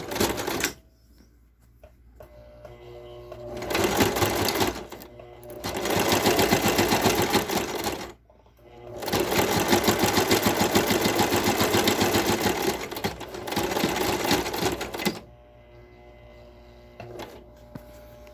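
A sewing machine back stitches a basic fabric mask, running in several long loud whirring bursts separated by short pauses, close and alone.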